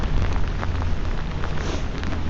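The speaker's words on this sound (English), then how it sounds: "I'm walking around in the rain." Steady rain falling outdoors during a test of a US military poncho, a dense, continuous hiss of drops with a low rumble underneath and no voices.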